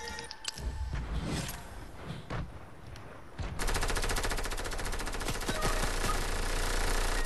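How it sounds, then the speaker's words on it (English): Rapid automatic gunfire rattles loud and close in a Fortnite match, a brief shot early on, then a sustained dense burst of repeated reports. "Shotgunned him right in his freaking face"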